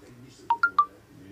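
A mobile phone gives three short rising electronic beeps in quick succession, loud and close, over a low hum of background noise.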